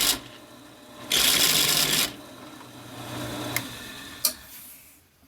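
Countersinking the second side of a steel hitch pin by hand: a dense, loud grinding burst of about a second, then a lower scraping drone with a couple of sharp clicks, no voices.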